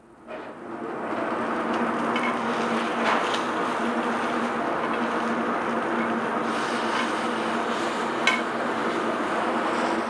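Steak searing quickly in a cast iron pan over high heat, a steady close broadband sizzle and hiss that holds unbroken for the full length, with one brief sharper crackle near the end.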